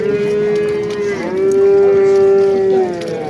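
A cow at a livestock market lets out a long, loud, close moo that wavers and holds for a couple of seconds before fading.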